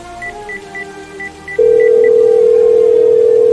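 In a radio drama, a rapid series of short telephone dialing beeps, then a steady, loud telephone tone that holds to the end, with no voices.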